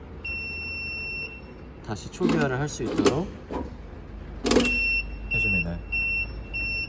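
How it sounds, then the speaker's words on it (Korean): Alarm beeps from a small open-loop strapping (banding) machine, a steady high tone pulsing on, off, then in short repeated beeps, with someone speaking Korean over it and mechanical clunks in between. "그리고 알람이 울리게 되는데 여기서 리셋 버튼을 눌러서"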